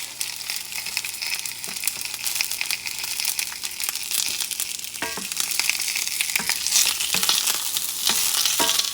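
Onions sauté with peppers in a hot pan, a steady close sizzle and crackle broken by occasional scrapes and stirring clatter, with no talking.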